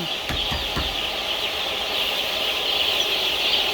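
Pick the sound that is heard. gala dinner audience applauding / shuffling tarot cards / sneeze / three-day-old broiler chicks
three-day-old broiler chicks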